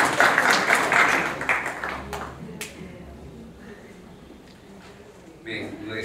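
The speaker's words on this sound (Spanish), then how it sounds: "un aplauso, por favor." Lecture audience applauding during a course on IFRS accounting standards, loud clapping for the first two seconds that quickly thins out and fades, leaving room noise before a voice starts near the end.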